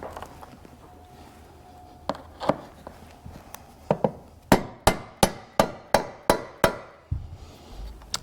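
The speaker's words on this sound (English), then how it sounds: "have a little rubber mallet so that when you seat it, you can tamp it down and make sure that the rivet's fully seated" A small rubber mallet taps a rivet down on a 2022+ Ford Raptor/F150 install: a few scattered knocks, then a quick even run of about eight sharp close blows that stops abruptly.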